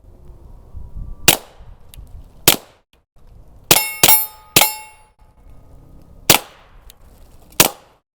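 A Keltec P17 .22 LR pistol fires about eight sharp, loud shots at uneven intervals, some coming in a quick cluster, each followed by a brief metallic ring in otherwise quiet surroundings.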